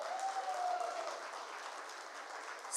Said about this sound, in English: Show me with a round of applause.